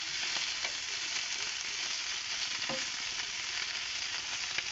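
Bottle gourd curry with fresh coriander leaves sizzles steadily in a frying pan, a constant broad hiss with a few faint scrapes of stirring, no voices.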